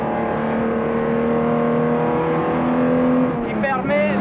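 A 1962 race car at full throttle on the Masta straight at Spa-Francorchamps, a steady, loud engine drone holding one pitch throughout, rising slightly near the end, close and continuous with no talk.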